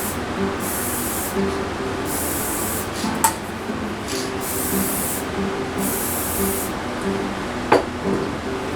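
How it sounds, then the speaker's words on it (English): Repeated hissing bursts from a spray paint can spraying into a filter, about five sprays roughly a second each, over a steady motor hum with a couple of small clicks. "you can clearly see the mist or the spray going right into the filter"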